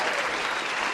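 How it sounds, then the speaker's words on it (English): Dense, steady applause from an audience during a Museum Madness live stream, a brief burst of many hands clapping at close range with no other sounds standing out. "How about a round of applause for that?"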